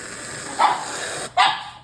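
Dog named Juggy giving two short excited barks, close by and moderately loud, separated by a brief pause, with no talk.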